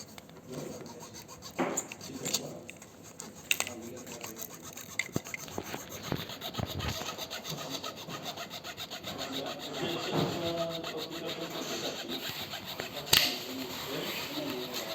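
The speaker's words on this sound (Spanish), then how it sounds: "Cojo la lima y un poquito por aquí." Hand file rubbing a soft plastic guide on a model car, with a series of irregular rasping strokes close up, some louder scrapes and light handling knocks between them.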